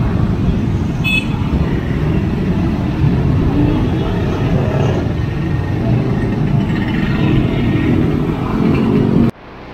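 Heavy, jammed traffic at the Tlogomas bridge, a loud continuous rumble of car and motorbike engines close by, with a brief horn toot early on and no break until the sound cuts off near the end.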